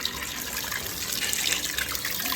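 Water splashes and pours steadily while freshly caught fish are washed for village cooking outdoors, giving a close, bubbling, running-water wash with no talking.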